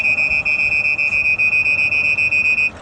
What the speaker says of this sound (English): the first alert, which is a single beep, 1 second for the second alert, which was a double beep